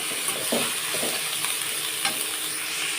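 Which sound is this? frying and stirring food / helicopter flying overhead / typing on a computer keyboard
frying and stirring food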